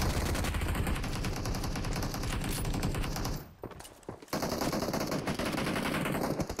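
Rapid automatic gunfire from a PUBG Mobile match, loud and dense bursts that pause briefly midway before resuming, with no talk over it.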